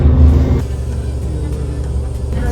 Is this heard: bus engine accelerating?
yes